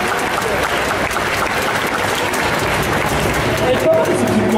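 An audience at a cosplay contest at an indoor fantasy festival applauds continuously, a dense, loud wash of clapping from a crowd, with voices mixed into it.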